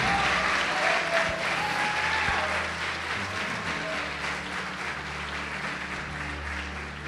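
A church congregation breaks into sustained applause, a dense wash of clapping that fades gradually over several seconds, with a voice briefly audible underneath.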